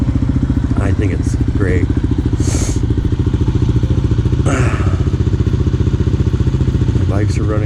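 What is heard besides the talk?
motorcycles running on the road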